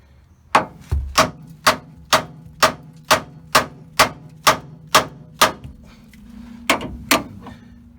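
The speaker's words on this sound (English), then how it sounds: "I'm just going to use the hammer and smack it as hard as I can right here on the side of the pitman arm" A hammer strikes the side of a steel steering pitman arm on a 2003-2008 Dodge 2500/3500 about a dozen times in a steady rhythm, each blow sharp and ringing, close by, then a couple of final hits after a pause.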